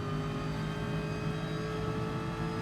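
Steady, loud race car engine drone in Gran Turismo Sport at Suzuka, held at a constant high pitch as the car runs flat out down the straight, with no talk over it.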